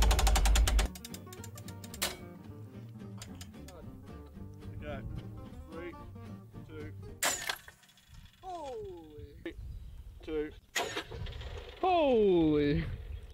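A homemade ballista mounted on a car, with mechanical ratcheting and clanking as it is cocked and released and sharp impacts, mixed with people talking and exclaiming over it.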